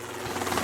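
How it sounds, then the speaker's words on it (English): A helicopter passes overhead, heard as a steady, dense rotor rumble and whir, moderately loud, with no talking during this brief moment. "No, that's a helicopter. That's a helicopter."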